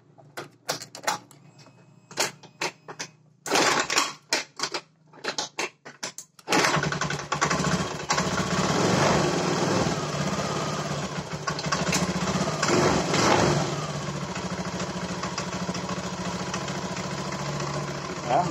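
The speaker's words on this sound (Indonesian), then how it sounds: "Ya, motor udah hidup ya bosku ya." A Honda Beat fuel-injected motorcycle, previously failing to start from a coil spark fault, sputters through a few attempts and then catches, settling into a steady close idle with someone talking over it.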